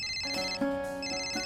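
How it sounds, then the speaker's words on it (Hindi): A mobile phone ringtone plays a bright, melodic repeating pattern of electronic tones, close and clear, lasting only a moment. "देखिए फोन बज रहा है आपका।"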